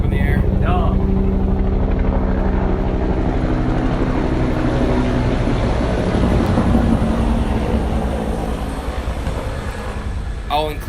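A public helicopter flies low over a city district, its loud rotor and engine roar holding steady throughout, while voices talk under the noise.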